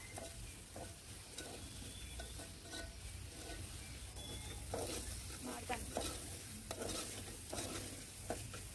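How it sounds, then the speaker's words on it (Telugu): Spiny gourd curry being stirred in a pan in a village-style kitchen, with soft repeated scraping strokes over a continuous low sizzle, close but fairly quiet, and no voice. "మనం మధ్య మధ్యలో అయితే ఇలా మూత తీస్తూ చూస్తూ కలుపుతూ ఉండాలి, లేదంటే కింద అంటుకుంటుంది."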